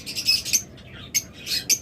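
Caged mynahs, lovebirds and budgerigars at a breeder's shop give short, bright squawks and chirps in a few quick bursts, close by, with no talking.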